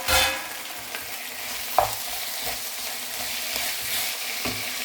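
Chicken frying in oil in a pan, a soft steady sizzle broken by occasional stirring scrapes and one sharper clink.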